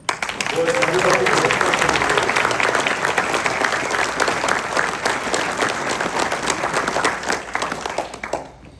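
A room full of people applauds a team member at a 911 gathering with dense, steady clapping that holds for about eight seconds and stops abruptly near the end, with voices mixed in beneath it.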